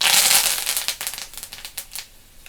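Curry leaves splutter in hot tempering oil with turmeric, a burst of loud hissing crackle at first that thins into scattered sharp pops and fades out.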